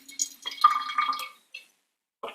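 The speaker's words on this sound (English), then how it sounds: "I'm kind of curious to see what it looks like in the bottle, so I'm going to pour some in." A grape-flavored energy drink is poured into a bottle, giving a close, bright trickle and splash of liquid that lasts about a second. A few faint drips follow after a pause.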